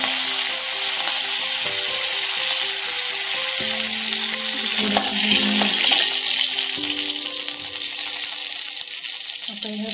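Curry leaves crackle and sizzle in hot oil, tempering for kadhi, a loud steady frying hiss with small pops, under background music.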